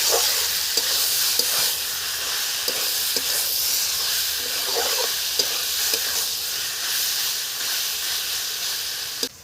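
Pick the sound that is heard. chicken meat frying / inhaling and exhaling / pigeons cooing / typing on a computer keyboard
chicken meat frying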